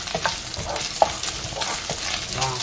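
Stir-frying melon seedlings in a hot wok gives steady rattling scrapes and a continuous sizzle, with a sharp clank near one second and no voices.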